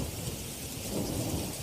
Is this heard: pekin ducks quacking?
no